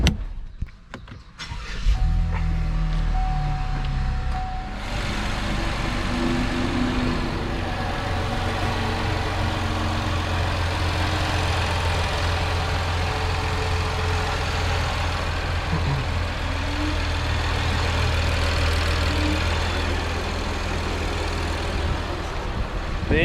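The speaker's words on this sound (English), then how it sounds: "The engine is really quiet" The engine of a 2020 Chevrolet Blazer RS starts and settles into a steady, quiet idle, a low hum that holds for about twenty seconds. A brief whirring comes just before it starts. No one talks.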